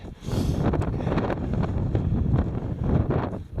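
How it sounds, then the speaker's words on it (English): Strong wind gusting across a mountain summit on the Bigelow Range in Maine, a loud, steady roar buffeting the microphone with rushing bursts throughout and no voices. "Oh, there's the wind again."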